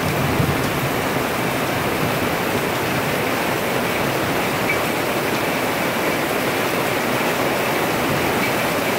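Sudden heavy summer downpour during a storm over Peterborough, a dense, steady roar of rain pounding surfaces at close range, continuous and loud throughout with no voices.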